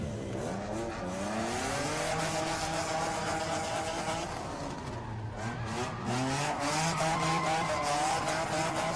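A drift car at Red Bull Car Park Drift in Muscat revs hard and continuously, the engine note rising and falling under aggressive driving with faint tire squeal, loud and steady throughout.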